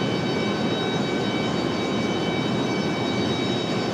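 Breeze Airways Airbus A220-300 departing Raleigh-Durham International Airport on the far runway, a steady engine roar heard at a distance.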